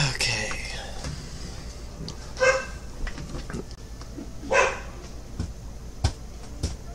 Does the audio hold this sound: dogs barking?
yes